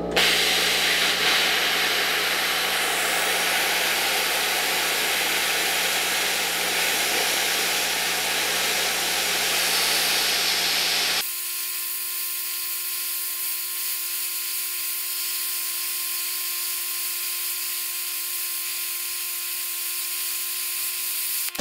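A plasma cutter makes a severance cut through 1-inch-thick steel plate, a loud, steady, rushing hiss that switches partway through to a thinner, tonal, humming hiss, close by with no talk.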